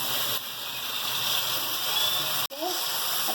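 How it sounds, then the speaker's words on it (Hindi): Water pouring steadily into kofta masala in a pot for gravy, a continuous hissing rush that stops abruptly near the end, followed by a brief voice. "फिर मैं अपनी ग्रेवी के लिए पानी डाल दूँगी"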